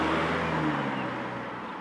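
A Jaguar XE P250 with a 2-liter turbo petrol engine pulls away, its engine note steady and moderately loud, then easing slightly as it moves off.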